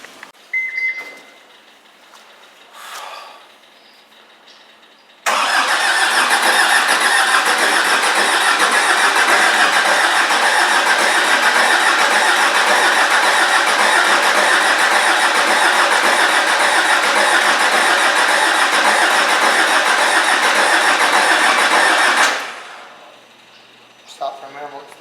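A John Deere 319E skid steer's engine cranks briefly, then catches and runs loud and steady for about seventeen seconds before shutting off, with faint talk around the start.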